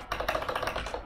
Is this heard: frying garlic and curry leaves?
no